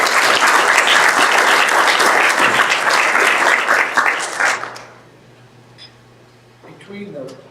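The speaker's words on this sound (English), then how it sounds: "Give this group a round of applause" Audience applause for a student senior design group presenting on cocoa bean processing, a dense burst of clapping that carries for about four and a half seconds before cutting off into quiet room tone with faint movement.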